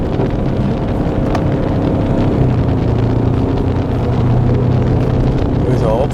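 A 2023 Ford Ranger Raptor drives along with a loud, steady engine drone under heavy wind rush, low rumble constant throughout with no clear revving change.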